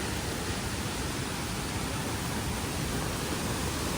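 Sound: waterfall, water rushing down at full force

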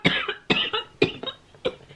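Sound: cough

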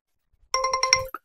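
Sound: Reolink Argus 4 Pro camera phone notification alert

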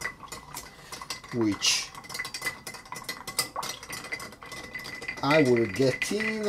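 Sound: stirring a Negroni cocktail with ice

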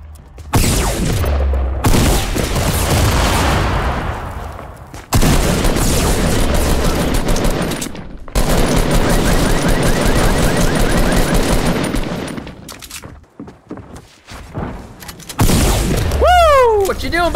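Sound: machine gun fire in Fortnite video game

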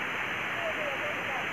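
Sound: waterfall near Narsingh temple

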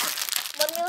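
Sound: crinkling plastic packet being opened

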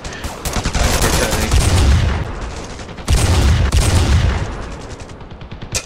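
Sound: gunfire from a gun in the video game Ravenfield

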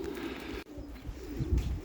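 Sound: pigeons

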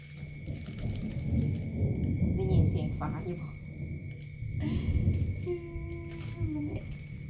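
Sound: thunderstorm with lightning

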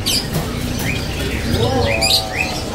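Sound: canary singing

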